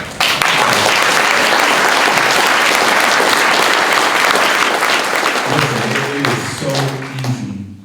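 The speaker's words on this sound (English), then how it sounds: "Give yourself an applause for that." Sustained applause from an audience at a public gathering in The Villages, steady and dense for several seconds before tapering off, with voices emerging near the end.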